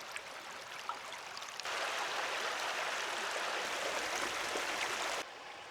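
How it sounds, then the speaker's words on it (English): A flowing stream in a state forest, a steady broadband rush of water that swells louder in the middle and then eases back, continuous and close with no talking. "We'll just sit around and listen to that flowing water."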